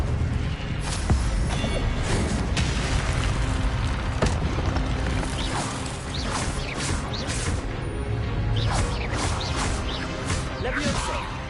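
An Incendio fire spell is cast in a Hogwarts game amid dense combat, with loud whooshing bursts, crashes and booms repeating over busy background noise.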